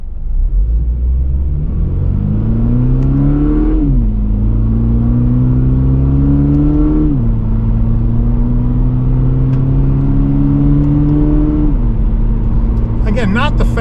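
A 2024 Toyota GR86 engine rises in pitch, drops at each paddle-shifted gear change in manual mode, then climbs again through several gears, loud and steady from inside the cabin.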